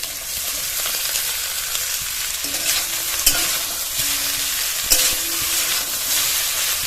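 Rotis being stirred and fried in a hot pan with chopped capsicum and green chilli, giving a loud, steady sizzle and occasional scraping and stirring clatter, with no talk.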